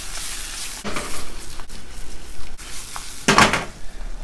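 Drained canned tuna sizzles steadily in a hot pan at home, with scraping spoon strokes near the start and a louder clattering stir midway, close and without talk.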